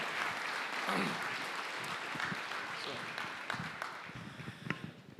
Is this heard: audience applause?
yes